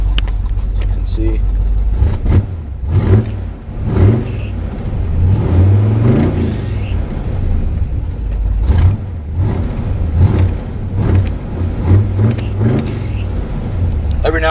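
A 1981 K5 Blazer engine idling, then blipped repeatedly for throttle response, with a deep rumble that swells and falls several times at close range while someone talks over it.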